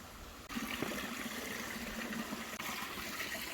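Water runs from a spout beside a Brazilian mountain trail near Pico Paraná, a steady, soft, close gurgling splash that carries on without pause and with no voices.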